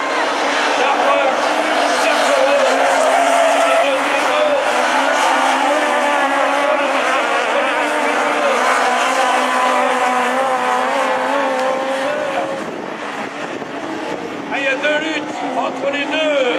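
Rallycross race cars, Citroën C2s and Renault Twingos, race in a final at Châteauroux with loud continuous engine roar and revving throughout, as a commentator talks over the noise.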